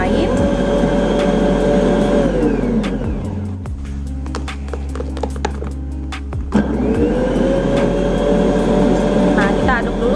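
An electric mixer churns taro bread dough ingredients, a loud steady motor whir that drops off midway for a few seconds and then starts up again, with a voice talking over it.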